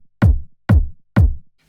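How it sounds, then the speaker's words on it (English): Three punchy techno kick drum hits with a mid-punch layer added, each with a crisp attack, a thick midrange thump and a decaying low boom, evenly spaced and heard alone. "and this mid-punch layer that sounds like this."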